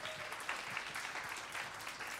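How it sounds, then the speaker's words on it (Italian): A crowd claps steadily, a dense patter of applause sustained from start to finish. "un altro bel applauso a Dino Tron"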